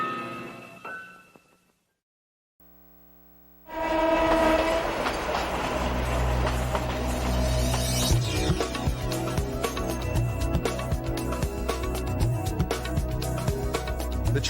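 Passenger train on a mountain line with many tunnels, heard in a TV commercial: after a brief quiet gap, a loud horn blast rises over the steady rumble and rhythmic clatter of rolling railcars, continuing close and strong to the end.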